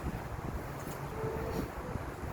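Strong cold wind buffeting the microphone outdoors at night, a steady loud rushing roar with low gusty rumbles and no voices.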